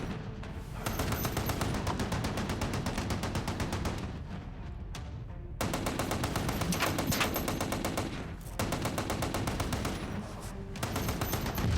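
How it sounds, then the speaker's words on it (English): Sustained machine-gun fire in an action film battle, rapid continuous bursts broken by a few short pauses, loud and dominant across the whole stretch, with no talk over it. "Keep firing that gun."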